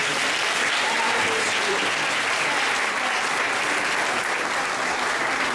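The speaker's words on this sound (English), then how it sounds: "they need a hand clap, and so do their teachers" Audience applause at a kindergarten move-up day ceremony, a steady wash of many hands clapping throughout, loud and sustained with no speech over it.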